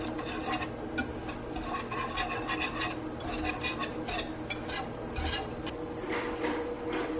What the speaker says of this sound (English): now I'm going to whisk that all around until the brown sugar melts nicely into the butter